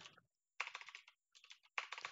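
Computer keyboard typing in two quick bursts separated by short silences, close and clear, with crisp, clustered keystrokes against a quiet background.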